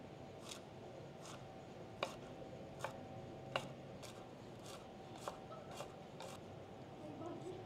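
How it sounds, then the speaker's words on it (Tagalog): A knife taps steadily on a cutting board while thinly slicing lemon zest, about a dozen faint, evenly spaced clicks over quiet room noise. "hihiwain natin siya ng maninipis"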